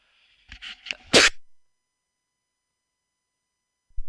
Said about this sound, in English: There's that sneeze from earlier.